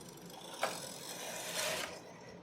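A knitting machine carriage is pushed across the needle bed for one row of a set-in sleeve crew neck sweater, giving a soft mechanical ratcheting slide with a click near the start and a louder swell toward the end, fairly quiet overall.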